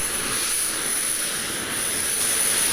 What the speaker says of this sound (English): And let's start left engine.